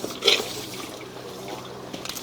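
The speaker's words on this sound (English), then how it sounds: "And we got water running." Water running through an underground drain near a barn, a faint steady trickle echoing in the pipe, with one brief louder splash near the start.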